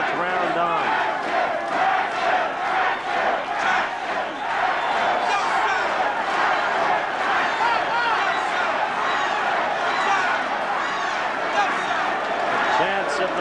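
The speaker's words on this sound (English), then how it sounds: "The chants of the crowd speak for themselves." A boxing arena crowd chants and roars through a bloody late-round fight between Dwight Braxton and Matthew Saad Muhammad, a dense, continuous wall of massed voices with rhythmic swells.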